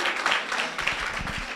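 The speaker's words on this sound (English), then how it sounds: "Everyone is clapping for you here." Applause from an audience at an education colloquium launch and exhibition: a short, steady burst of many hands clapping together, fairly close, with no pauses.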